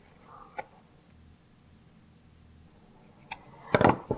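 Scissors trim a fabric strip close to a knot on a braided recycled-material choker: a few quick, crisp snips, one early and a tight cluster near the end, heard up close in a quiet room.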